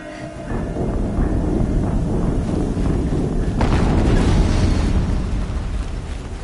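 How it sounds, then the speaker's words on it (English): A loud, sustained explosion rumbles in the video game Horizon Zero Dawn, a dense low roar that swells midway and holds with crackling debris, no voices over it. "Another explosion."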